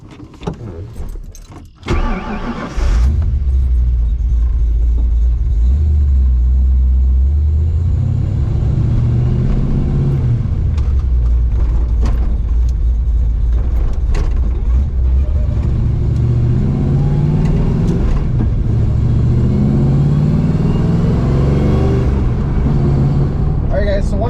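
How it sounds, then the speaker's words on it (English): A 1982 GT with new 4.10 gears cruising in fourth at about 30 mph on a residential road, a loud steady engine drone with rising and falling rumble from inside the cabin, after a brief clatter at the start. "right now I'm in 4th, going about 30 miles an hour down just a normal residential road in Dubuque"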